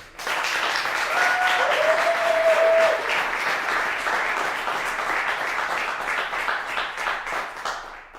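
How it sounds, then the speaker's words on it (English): An audience applauds a poet at a reading, a full sustained round of clapping from many hands that holds strong before thinning slightly and trailing off at the end. "One more round of applause"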